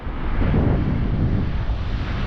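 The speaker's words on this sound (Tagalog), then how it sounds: "Lakas ng hangin" Heavy wind roars across the microphone on a Michigan beach, a steady loud low-frequency buffeting that peaks briefly early on and holds without a break.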